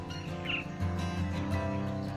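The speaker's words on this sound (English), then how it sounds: "we hear only the raspy, busy chatter of reed and sedge warbler" Reed warblers and sedge warblers give a raspy, busy chatter from a reed bed at RSPB Minsmere in May, with scratchy repeated notes and a brief higher whistle, moderately near over a steady outdoor hum.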